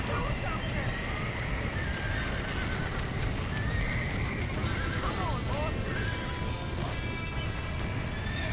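Horses in the Red Dead Redemption video game neigh and whinny repeatedly amid clip-clopping hooves and crackling fire, with shouting voices mixed throughout the chaotic scene.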